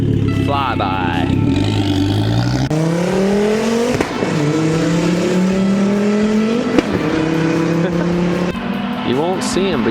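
A 2004 Volvo V70R with a straight-pipe exhaust making a flyby, the engine climbing through several gears with sharp shift breaks, loud and near, while people talk.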